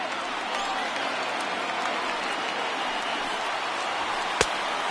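Dense, steady crowd roar fills a baseball stadium in MLB The Show 19 as tens of thousands of fans rise, a continuous wash of cheering with one sharp thump near the end.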